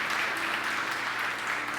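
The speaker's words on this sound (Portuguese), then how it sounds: "vamos aplaudir o Senhor" A church congregation applauds a host at a Portuguese-language service, giving a steady, dense wash of clapping that holds evenly throughout without pause.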